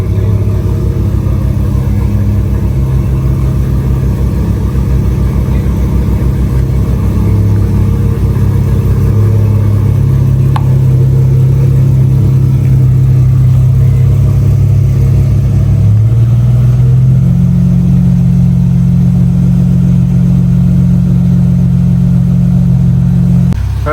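Car engines, including a Dodge Charger, rumble loudly and continuously while being driven out of parking, with the deep engine note rising in pitch as it revs up and holding steady, no voices heard.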